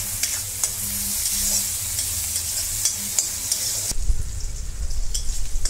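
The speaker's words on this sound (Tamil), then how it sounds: "வெங்காயம் நல்லா கோல்டன் ப்ரௌன் ஆகிற வரைக்கும் வதக்கிக்கலாம்" Onions sautéing in a pan until golden brown for a prawn cauliflower gravy, a bright continuous sizzle with soft stirring scrapes, growing louder and rougher in the last seconds.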